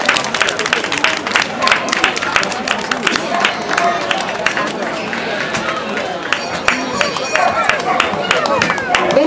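A crowd keeps up sustained clapping for a dog named Kira after her catwalk turn at a dog show parade. Scattered sharp claps mix with crowd babble, and an announcer speaks over them.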